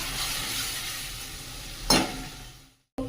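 Ground coconut paste hits sautéed onion and turmeric in a hot pan. A soft sizzle runs throughout, with one sharp scrape or clatter near the end before a brief silence. No one speaks.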